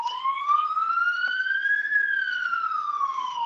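A passing emergency vehicle's siren makes a single loud wail that rises and falls smoothly, sounding fairly close and alone with no talk.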